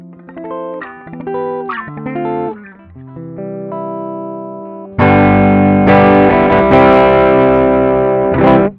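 An electric guitar played through a Klon KTR overdrive pedal with mild distortion: picked melodic phrases first, then loud sustained strummed chords ringing out with a warm, slightly gritty tone.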